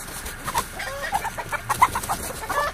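Several short clucks from roosters or chickens come in an uneven, busy run, fairly close, over a low background hum.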